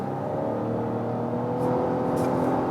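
Steady cabin drone of a 2022 Lexus RX 450h F Sport hybrid as it accelerates from 85 km/h, a smooth low engine and road hum with a faint electric whir rising slightly toward the end.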